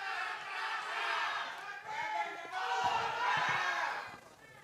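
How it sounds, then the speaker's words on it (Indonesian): Applause from the audience at a public debate for a 2024 Grobogan regency election, a dense, steady clatter of clapping that fills the hall for several seconds with a brief dip partway through. "Boleh kita beri tepuk tangan yang meriah"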